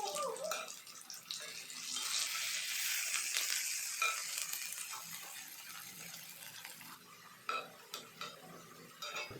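Raw banana slices shallow-frying in hot oil in a pan, a soft, steady hiss and crackle at low level with a few brief clinks and scrapes toward the end, no voices.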